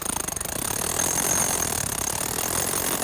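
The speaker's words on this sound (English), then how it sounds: "we're drilling a line of holes down the length of the granite where we want the split to" Pneumatic rock drill hammering a line of holes into granite, a loud continuous rapid percussive clatter with dense broadband noise throughout, close and steady.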